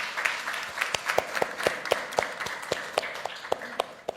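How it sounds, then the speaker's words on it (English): Applause for Adam at a conference day: a thin, sparse clapping from a small audience, individual claps popping out distinctly in an uneven rhythm over a few seconds. "please give applause to Adam"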